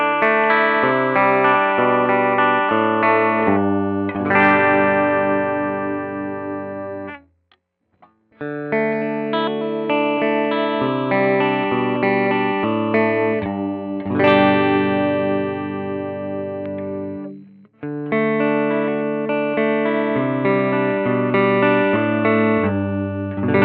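A VOX BobCat V90 electric guitar plays a clean tone with volume and tone controls at ten. It strums sustained chords in phrases, with two brief pauses between them, loud and alone.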